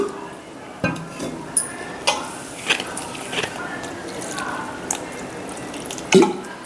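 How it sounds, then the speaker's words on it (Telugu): Water is poured into gram flour batter for aloo bonda in a kitchen, heard as soft splashes with scattered clinks and taps of utensils, fairly quiet and intermittent. "ఇప్పుడు ఇది వాటర్ వేసుకొని కలిపిస్తుందాం."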